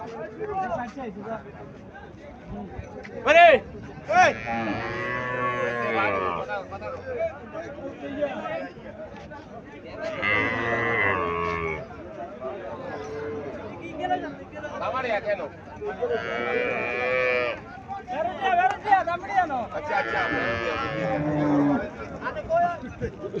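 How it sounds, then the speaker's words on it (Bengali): Haryana cows low repeatedly at a weekly village cattle market in Comilla, several long, close moos spaced through the clip amid steady crowd chatter and nearby voices. "কাস্টমারকে দেখাইতেছে গাভিটা"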